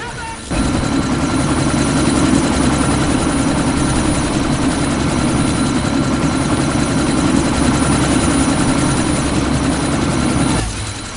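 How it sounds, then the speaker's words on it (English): A helicopter spins up for takeoff in the video game Deus Ex: Mankind Divided, its loud, steady rotor and engine roar holding constant for about ten seconds before cutting off abruptly. "That chopper's about to take off!"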